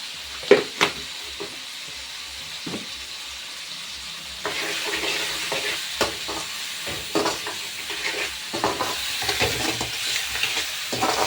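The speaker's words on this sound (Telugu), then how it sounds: "మొత్తాన్ని అయితే మంచిగా ఫ్రై చేసుకున్నాం." Fenugreek leaf curry fries in a pan with a soft, steady sizzle. A spoon scrapes and stirs it in repeated close strokes, growing busier and louder midway.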